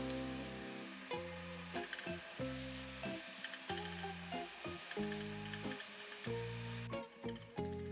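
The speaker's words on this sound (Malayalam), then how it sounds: "എണ്ണ തെളിയുന്നിടം വരെ ഈ മസാല നല്ലവണ്ണം വഴറ്റി കൊടുക്കണം" Masala sautés in oil for a spicy potato curry, a faint sizzle and crackle heard under background music with occasional stirring.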